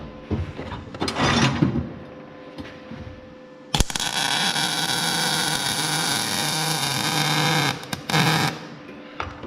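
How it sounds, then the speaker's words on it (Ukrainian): An EDON MIG 315 welder crackles and hisses on metal in a steady, loud buzzing burst lasting several seconds, preceded by some clatter and handling noise. "ви почуєте навіть по полуавтомату, як він варить"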